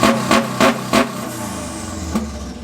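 Subaru WRX engine with the exhaust removed, running open dump at a car meet, blipped in four sharp, loud revs close by before settling into a rough idle with one smaller blip near the end.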